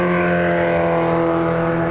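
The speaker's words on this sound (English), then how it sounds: "Very loud Japanese motorcycle here in Flagler, Florida." A loud Japanese motorcycle passes through active traffic in Flagler, Florida, its steady engine drone with strong harmonic tones filling the whole moment, close and continuous with no talk over it.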